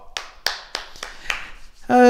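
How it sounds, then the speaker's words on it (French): A small group at a martial arts class claps in several sharp, separate bursts, close and crisp, before a voice starts speaking at the end. "Et on s'applaudit à nouveau."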